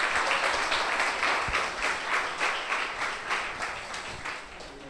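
An audience claps at a cultural arts masterclass, with steady, dense applause from a crowd in a hall that holds for several seconds and slowly fades, with no talking over it.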